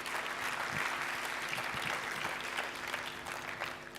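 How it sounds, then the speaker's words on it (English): An audience at a club meeting applauds a division governor with steady, dense clapping that carries evenly throughout at moderate volume. "Please give him a very big round of applause."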